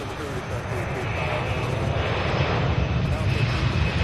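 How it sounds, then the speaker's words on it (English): FedEx plane taking off at Louisville SDF airport, with a steady, swelling engine roar from a distance and faint voices beneath it. "one takeoff that hasn't happened yet is that FedEx flight"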